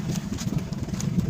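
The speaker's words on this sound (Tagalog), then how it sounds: "Talagang naandar yung motor." A boat motor runs in a short, steady, low droning rumble with a slightly uneven chug, out at sea in windy weather.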